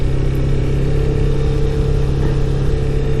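A Honda CB300R motorcycle engine hums steadily while being ridden through an industrial park, a loud, continuous mid-pitched drone close to the rider, with no changes in revs and no talking.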